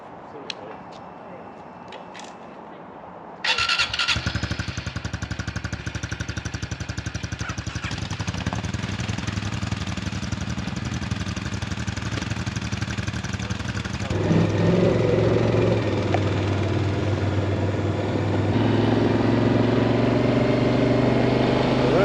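A dirt bike engine starts abruptly and settles into a loud, steady idle with a rougher, rising surge near the end, on a Lake Tahoe mountain off-road trail, with voices faintly underneath.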